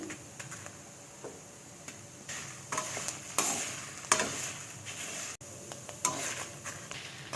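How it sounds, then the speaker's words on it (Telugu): Garlic and tamarind frying in a pan for curry leaf powder, with soft sizzling under intermittent scraping and stirring clatter of a utensil against the pan, fairly quiet and close. "ఇప్పుడు మొత్తం అన్నీ కూడా బాగా ఫ్రై చేసేసుకోవాలి"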